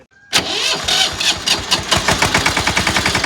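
A Captain tractor engine cranks briefly, catches and starts, then settles into a rhythmic, chugging idle close by with steady thumping pulses.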